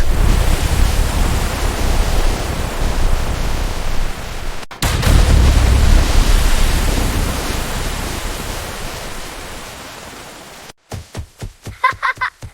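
Milk poured onto giant yellow cereal loops, a steady loud rushing splash that runs for about ten seconds, breaks off briefly midway, then gives way to a few short splashy bursts at the end.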